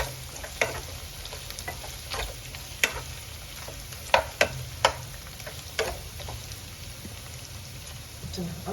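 Pork sizzles in a pan with garlic and chili, a steady fry hiss with scattered pops and occasional stirring clicks, close and moderately quiet with no voice.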